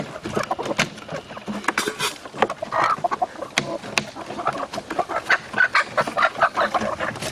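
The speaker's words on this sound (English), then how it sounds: "Yeah, that's my buff rooster." A buff rooster on a farm clucks and calls steadily, close and fairly loud, with other chickens and fowl chattering around it throughout.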